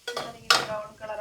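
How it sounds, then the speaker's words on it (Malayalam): A spoon stirs rasam in a metal cooking pot, giving a few close clinks and scrapes against the pot's side with one sharper ringing knock, brief and without speech. "അതിനകത്ത് നമുക്ക് ഒന്നും കൂടെ ഇളക്കി കൊടുക്കണം"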